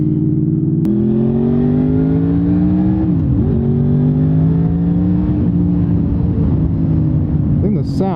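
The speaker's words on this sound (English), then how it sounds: "I think the sound is the best part of this bike." A Honda VFR800 motorcycle engine revs and accelerates up through the gears, its rising whine dipping briefly at a shift before climbing again, loud and close throughout.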